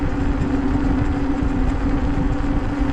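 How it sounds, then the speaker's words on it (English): A Freesky Eurostar Ultra e-bike's 1000 watt hub motor pulls uphill on throttle alone, giving a steady loud drone with a sustained tonal whine and wind rush throughout, with no talk. "Freesky claims that this little 1000 watt motor's got 120 Newton meters of torque"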